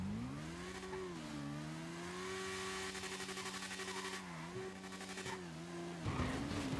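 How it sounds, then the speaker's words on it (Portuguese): A motorcycle engine in GTA V Online on PS4 drones steadily, its pitch rising and dipping as the throttle shifts, then ends with a brief louder surge. "ela é forte demais essa moto"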